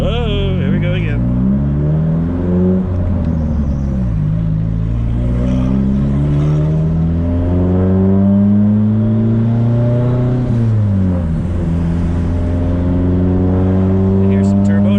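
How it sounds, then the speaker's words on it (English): A drift car's engine revs up and down in loud, close sweeping waves as it warms on a cold day, with turbo whine layered over the engine and someone talking over it. "Hear some turbo noise?"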